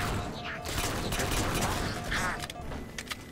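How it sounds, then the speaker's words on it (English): Pistol gunshots in Halo 4, a dense run of sharp cracks repeating irregularly over a loud, busy game soundscape, with a few duck-like honking tones mixed in. "Alright, let's see how the pistol feels."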